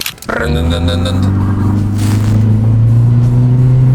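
A car engine starts and settles into a steady, loud, close low hum as the vehicle sets off on a winter day with a sled fixed to it, a rising tone holding throughout.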